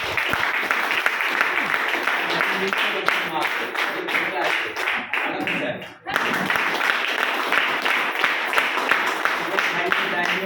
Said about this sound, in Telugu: ఒక్కసారి మా కోసం ఒక్కసారి మీకోసం క్లాప్స్ కొట్టుకోరా